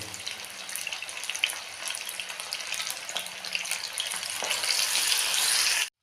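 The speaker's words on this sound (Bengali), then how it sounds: "এখন আমি মাছগুলো এরকমভাবে একটা করে বেকারে ডুবিয়ে আমি ভেজে নেব" Batter-dipped amudi fish pieces fry in hot oil with a soft, continuous crackling sizzle that grows denser toward the end, no voices present.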